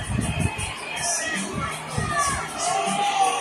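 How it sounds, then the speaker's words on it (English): Large crowd at an NXT wrestling event cheering and shouting, a steady roar of many voices mixed with talking. "what a crowd it is tonight"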